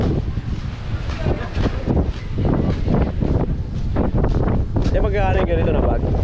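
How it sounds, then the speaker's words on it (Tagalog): Steady wind buffets the microphone on Puka Beach in Boracay, a constant rushing roar running under casual chatter and nearby voices throughout. "Basta ng hangin"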